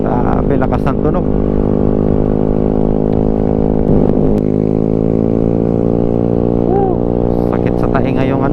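Loud motorcycle exhaust from a Mio Sporty with a modified muffler on an uphill mountain road, a steady, harsh droning roar that stays close and continuous throughout.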